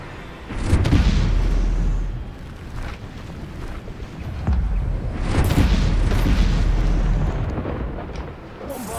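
Two heavy Bombarda explosive-spell blasts strike a wall in Hogwarts Legacy, each a deep booming burst with a rolling rumble that lingers several seconds; the first lands near the start and the second a few seconds later, both loud and close.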